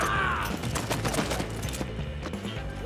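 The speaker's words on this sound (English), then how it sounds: "why he's shooting me?" Rapid bursts of gunfire in a video game, dense crackling shots over a constant low hum, fairly loud and close, without speech.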